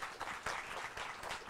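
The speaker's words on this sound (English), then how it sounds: "I know I sort of kind of started some applause" Steady clapping from a group of people, a continuous patter of applause at moderate volume throughout.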